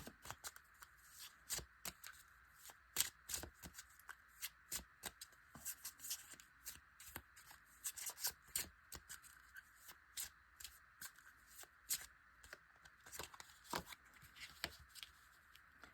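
Séance edition Secret Pocket Oracle cards by Patrick Valenza being shuffled by hand, a quick run of crisp riffling flutters and soft taps, close and quiet, no talking.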